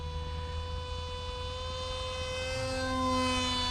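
A Hobby King Tek Sumo RC plane drones steadily overhead on its first flight, its electric motor whine holding a continuous pitch that swells slightly near the end, heard at a moderate distance.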